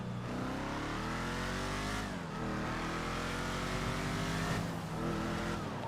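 A Lamborghini engine revs hard in a role-play driving video game, a steady loud roar with rising and falling pitch sweeps, a brief dip near the middle and another shift toward the end, heard alone without talk.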